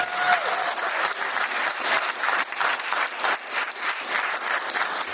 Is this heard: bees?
no